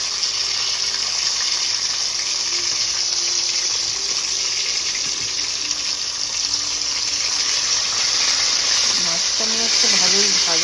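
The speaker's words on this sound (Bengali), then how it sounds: "মাছটার আওয়াজ মারাত্মক শুরু করেছে," Fish frying in oil at a fish fry night in Malaysia, with a loud, continuous broadband hiss that holds steady throughout. A voice comes in faintly near the end.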